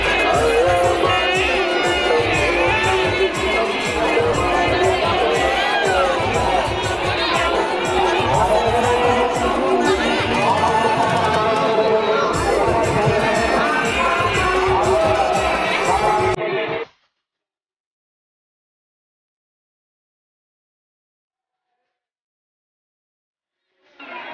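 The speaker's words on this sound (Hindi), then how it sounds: "बहुत ही काफी ज्यादा भीड़ है" Dense, loud crowd noise at the Nilgiri Tusu fair near a Hanuman temple on Nilgiri hill, Patrahatu, Silli, with a steady roar of chatter and festival bustle for about seventeen seconds before cutting to silence.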